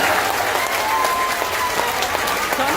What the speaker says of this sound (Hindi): आप ताली बजाइए